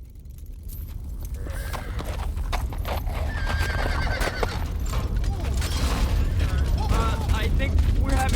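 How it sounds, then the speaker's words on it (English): Horses gallop with rapid hoofbeats that grow louder on a film set, and several sharp neighs and whinnies break through near the end. "Go with the horses, Tony"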